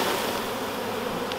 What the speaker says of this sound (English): So I've got a frame of bees here, and what I'm gonna do is I'm gonna shake them